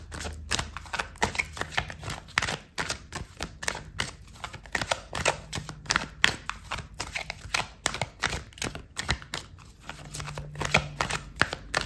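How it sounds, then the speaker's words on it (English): Tarot cards being shuffled and pulled during a love reading: a continuous run of close, dry card flicks and snaps, dense and rhythmic, with soft rustling between, lasting the whole stretch without talk. "I'm going to pull out another card for you"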